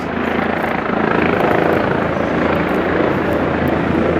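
Several helicopters fly low and come in to land over downtown New York, their rotors making a loud, steady, close drone that fills the whole stretch without a break.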